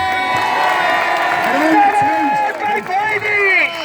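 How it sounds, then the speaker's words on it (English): Crowd at a Glasgow unity rally cheering and whooping loudly, with applause underneath and rising shouted voices close by. "Big applause for them."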